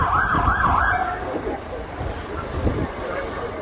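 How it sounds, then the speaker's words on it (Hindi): An ambulance siren wails in a city street after an attack, its warbling tone rising and falling over loud crowd and traffic noise. "ये देखिए एम्बुलेंस"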